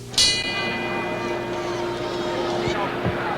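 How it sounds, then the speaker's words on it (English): Boxing ring bell at Madison Square Garden signalling round 6 of Ali versus Frazier's 1974 rematch, a single bright clang ringing out and sustaining over crowd noise and a commentator's voice. "And now the bell for round 6."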